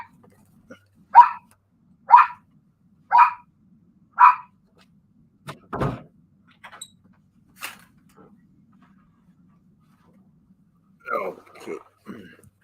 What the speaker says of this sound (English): and yes, that's the dog.